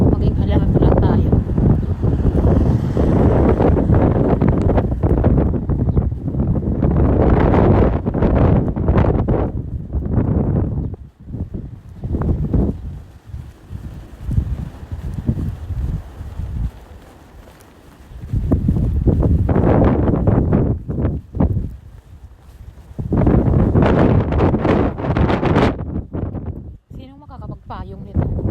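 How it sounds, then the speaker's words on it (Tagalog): Strong gusting wind buffets the microphone outdoors in a roaring, uneven rush that swells and eases in waves, with a person talking through parts of it. "ganito kalakas yung hangin"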